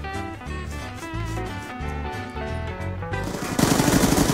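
Rapid automatic gunfire from a Black Ops 2 one-on-one match, with dense repeated shots over game music that grow louder and harsher near the end.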